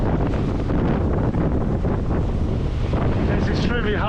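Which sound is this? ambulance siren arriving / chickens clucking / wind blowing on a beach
wind blowing on a beach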